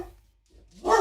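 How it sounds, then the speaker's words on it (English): Dogs bark in the background, one loud, close bark near the end after a faint earlier sound and a near-silent stretch. "dogs barking in the background"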